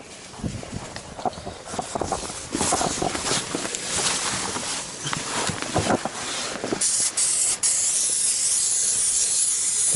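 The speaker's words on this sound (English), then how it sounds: "Brake clean on that." Aerosol brake cleaner sprayed onto a dirty, slightly oil-weeping oil filter on a 2WD Ford Ranger / Mazda B2500, a steady close hiss in bursts that becomes a continuous loud spray toward the end.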